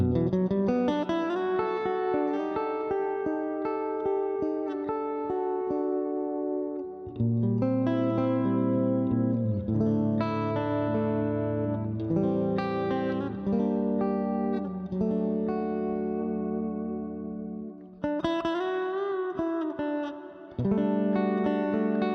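A 1991 Ibanez JEM FP77 electric guitar played through effects, sustained chords and melodic lines ringing with reverb and chorus, loud and continuous with brief pauses between phrases, no talking.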